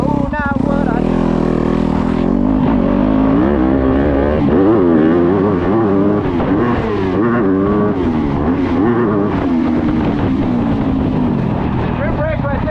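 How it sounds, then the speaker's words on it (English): A Club MX Yamaha motocross bike's engine revs up and down through laps, loud and close, its pitch rising and falling as the rider shifts and brakes, with some wind noise. "Let me give you a couple laps on what this bike's about."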